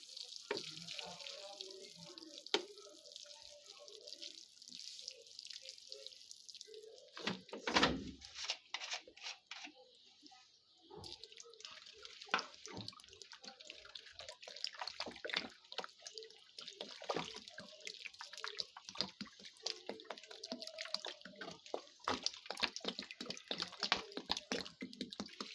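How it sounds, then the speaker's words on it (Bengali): Water is poured into a pot of cucumber seedlings, giving quiet, close trickling and dripping with brief splashes that come and go over about twenty-five seconds. "এরপর আমরা এটাকে জল দিয়ে ভরে দেব।"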